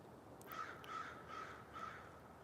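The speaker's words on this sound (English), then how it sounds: "I just heard a crow." Crow cawing, four evenly spaced harsh caws at a steady rhythm, faint and distant over a steady background hiss.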